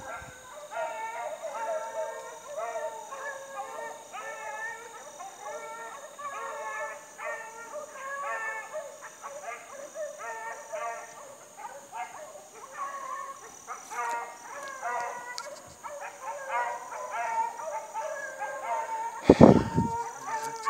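A pack of hunting dogs bays and howls in a continuous chorus from some distance, with a sudden loud knock near the end.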